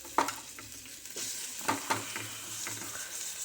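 Tomatoes go into hot oil in a pan for a spicy drumstick curry and fry with a soft, steady sizzle, broken by sharp spoon clinks and scrapes close by.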